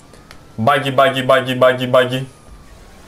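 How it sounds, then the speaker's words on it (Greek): An ambulance siren in the video game GTA 5 Online wails loudly for about two seconds in a rising, repeating warble, with a voice talking over it. "Έλα, έφυγε εσύ, ασθενοφόρο."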